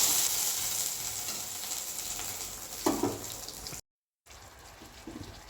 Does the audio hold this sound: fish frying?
yes